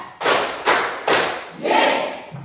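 A class of students standing up together clap in rhythm, a few sharp loud bursts of hand claps separated by short pauses, then a longer softer stretch.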